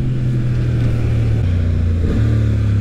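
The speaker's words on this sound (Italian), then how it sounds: "il motore ha un bel tiro" A 2023 Honda CB750 Hornet motorcycle engine revs hard and close, its pitch climbing then dropping in steps as it shifts gears.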